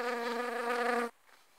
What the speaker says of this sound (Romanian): Uitați, este și o albină.